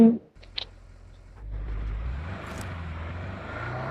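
A vehicle engine in the mobile game Battlegrounds Mobile India starts up after a couple of brief clicks, then settles into a steady, fairly loud rumbling drone that holds to the end.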